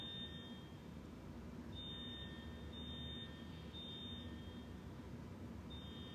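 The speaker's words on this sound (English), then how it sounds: "Our alarms don't have that sound." Somewhere in another building an alarm sounds, heard faint and distant as a high, steady electronic tone that pulses in repeated beeps over a low background hum.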